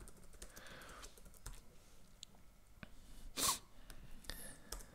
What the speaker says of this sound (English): we're going to type in The Walking Dead again